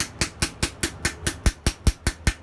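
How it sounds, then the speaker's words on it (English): A ball peen hammer texturing a cold forged steel spoon bowl rings out in eleven quick, evenly paced metallic taps, close and crisp, with no voices. "I'm going to give these bowls some ball peen texture. Just hammer on it cold."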